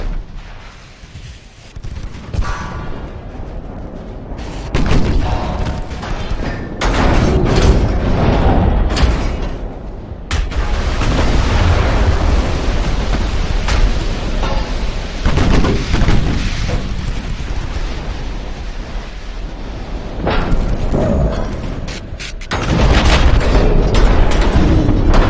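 Torpedoes striking a ship in a naval video game set off loud, heavy booming explosions that come in repeated bursts and long rumbling stretches, with a dense roar filling most of the sequence and no talk.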